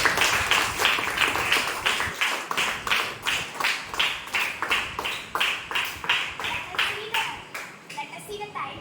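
Children clap together in a steady, even rhythm in a school classroom during a Teacher's Day lesson, the claps close and fairly loud and continuing for several seconds.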